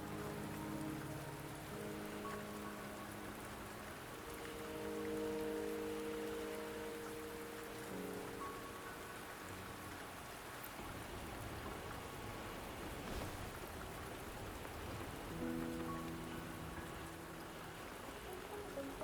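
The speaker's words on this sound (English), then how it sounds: "Don't worry, the rain won't last much longer." Steady rainfall in the game Wuthering Waves, a continuous hiss of drops pattering on surfaces, with soft musical tones drifting in and out beneath it.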